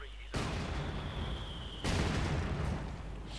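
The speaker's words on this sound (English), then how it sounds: "Mortar firing away." Broadband blasts from mortar fire in Company of Heroes 2, a loud continuous roar of game explosions with a second heavy burst about halfway through, with no talk over it.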